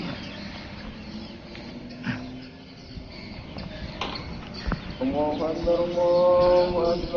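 A frightened eagle chick's harsh, repeated distress calls rise in the second half, close and fairly loud, over a noisy background with scattered knocks and movement.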